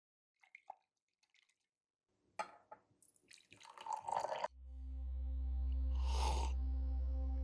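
Water from a kettle is poured over coffee in a Hario V60. Soft drips and trickles come first, then a steady, closer stream of filling liquid settles into a gentle pour, quiet and without voices.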